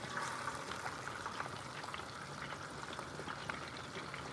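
Chopped onions frying for a chicken curry sauce make a steady, soft sizzle with scattered small crackles throughout, fairly quiet and continuous, with no talking.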